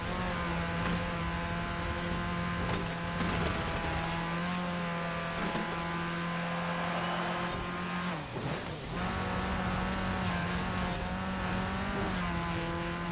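Continuous buggy engine note in Forza Horizon 4, an off-road buggy racing at steady high revs with a brief dip around a downshift, then climbing back; loud, close, and alone without voices.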